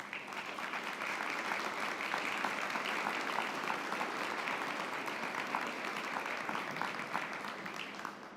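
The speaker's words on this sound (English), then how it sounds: "So let's give them a round of applause." An audience at a State Bar of South Dakota meeting applauds, with steady, moderately distant clapping that keeps going for several seconds and fades slightly at the end.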